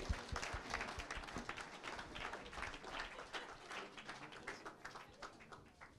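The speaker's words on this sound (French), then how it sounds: "on vous applaudit encore une fois" Applause from a French ceremony audience at a municipal internet label award event, crisp individual claps forming a dense, steady roll that gradually tapers toward the end, heard quietly with no speech.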